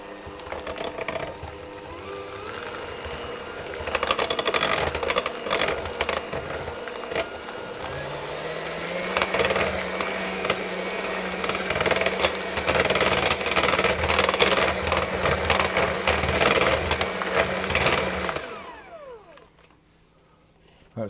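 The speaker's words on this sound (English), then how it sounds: "I'm going to whisk that through, that will loosen that up a little bit." A whisk scraping and rattling quickly in a bowl as milk is worked into a light fruit tea loaf mixture, a continuous busy clatter that stops abruptly near the end.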